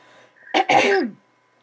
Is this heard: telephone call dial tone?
no